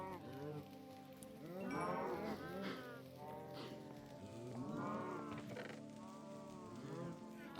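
Cows in the Minecraft video game moo several times, low drawn-out calls overlapping one another at a soft, quiet level over a faint background hiss.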